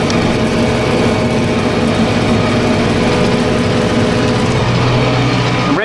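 A tractor engine drones loudly and steadily while pulling a plough across a grass field, a close continuous mechanical hum with a rising tone near the end and no talking.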